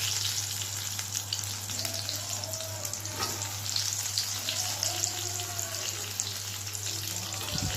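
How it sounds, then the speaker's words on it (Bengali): Potatoes frying in hot oil for an eggplant, potato and bitter gourd dish give a steady, close sizzle and crackle that runs unbroken throughout, with a low constant hum underneath. "দেখুন আমি তেলটা গরম করে নিয়েছি এবার আমি এখানে আলুগুলোকে ভাজতে দিচ্ছি"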